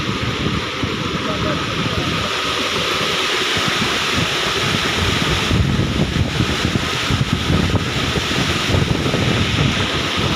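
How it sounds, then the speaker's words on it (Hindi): Plain water pours steadily into a 20-litre spray tank, a continuous loud rushing splash that lasts throughout while a voice talks over it. "20 लीटर की ये हमारी टैंकी है, इसमें सादा पानी भर रहे हैं।"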